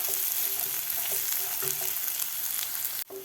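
Chopped onion sizzles steadily in hot oil in a pan for a Maharashtrian kurdai onion bhaji, with a few soft stirring taps before the sound drops off abruptly near the end.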